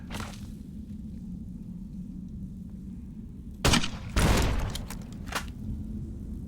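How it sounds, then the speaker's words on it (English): Weapon fire from Fallout: New Vegas, with incendiary rounds going off as a few sharp, loud bursts around the middle over a low, steady game hum, followed by fainter echoes. "Wait for the incendiary rounds to do their work, their magic."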